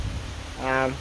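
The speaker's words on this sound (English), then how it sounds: "It is raining hard." Heavy rain falling in Ohio woods, a steady wash of hiss close around, with a voice speaking briefly over it near the end.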